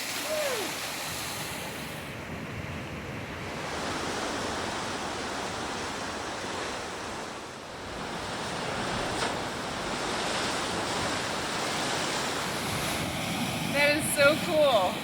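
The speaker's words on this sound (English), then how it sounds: "the openings of the tunnel where the waves were being pushed in" Ocean waves surging into a coastal rock tunnel on the Oregon coast, a continuous loud roar of churning surf with swells rising and falling, faint voices appearing near the end.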